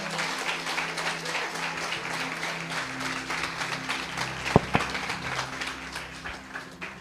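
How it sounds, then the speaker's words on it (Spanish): A church congregation claps loudly and steadily for several seconds, dense applause filling the room, with a sharp knock partway through. "Dale un fuerte aplauso a Jesús."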